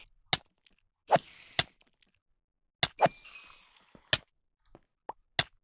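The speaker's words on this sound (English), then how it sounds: "That is the sound of spiders killing me lots." Minecraft spiders attacking the player near a spawner while mining: several sharp clicky hits spaced across the clip, two of them trailing brief hissy scrapes, each hit loud and close with quiet gaps between.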